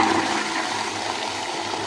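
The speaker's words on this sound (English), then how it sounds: "you throw it into the toilet and you pull the water." A toilet flushing close by, a loud continuous rush of swirling water that holds steady throughout, with no voices.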